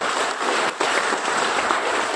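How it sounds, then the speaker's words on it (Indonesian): A seated audience at a leadership event at Berau Coal breaks into applause, a dense, loud wash of clapping with a brief dip partway through before it swells back. "Tepuk tangan dulu buat Anda."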